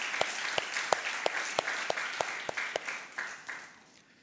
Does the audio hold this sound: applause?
yes